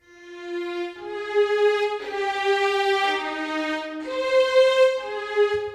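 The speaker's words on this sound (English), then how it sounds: "a simple melody I wrote for strings" A plain string melody of separate, detached notes stepping between pitches, each note starting fresh without smooth connection, moderately loud and alone.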